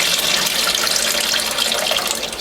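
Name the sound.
water poured off washed greens from salad spinner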